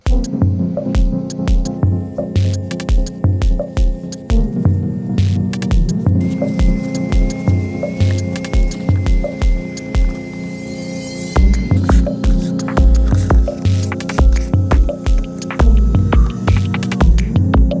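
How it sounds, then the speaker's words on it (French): A Karcher SC3 steam cleaner vacuums up dust with a loud, continuous throbbing hum that pulses in a steady rhythm, close by and without talk. "Je vais tout aspirer, donc de la même façon, hein, grossièrement on va tout aspirer."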